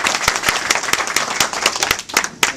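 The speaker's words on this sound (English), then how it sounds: "So let's give him a round of applause for the Sheriff." Close, loud clapping for the Sullivan County sheriff at a community gathering, individual sharp claps standing out in an uneven rhythm over a thinner background of applause.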